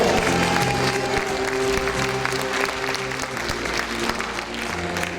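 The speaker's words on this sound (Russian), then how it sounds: "Ваши аплодисменты в поддержку наших бойцов" Sustained audience applause at a concert hall in support of soldiers, steady and full-bodied throughout with a held musical tone and background crowd murmur beneath.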